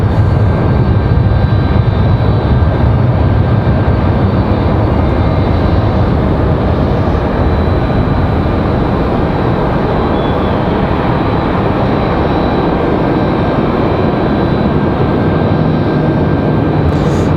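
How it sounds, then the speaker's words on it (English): A Mountain Air Cargo FedEx feeder plane, arriving from Newbern, on final approach to Raleigh-Durham airport, heard as a loud, unbroken broadband roar that holds steady for the whole stretch. "Our FedEx feeder on final."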